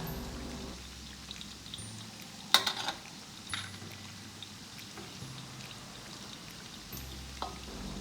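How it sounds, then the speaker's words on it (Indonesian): Chicken frying in hot oil in a wok, a steady soft crackle and sizzle running throughout with a few sharper pops and spatters, heard alone at moderate level. "lalu kita goreng ayam hingga kuning kecoklatan"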